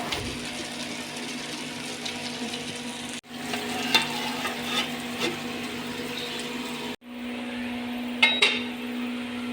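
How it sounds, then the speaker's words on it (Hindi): A spoon stirs thickening wheat-flour halwa in a pan with a constant frying sizzle and soft scraping. The stirring breaks off twice for a moment before resuming. "चमचा हिलाते रहने से ये गाढ़ा हो रहा है"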